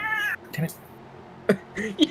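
A pet cat lets out a couple of wailing meows that sound like a crying baby, heard indoors between bursts of a man's exclaiming speech.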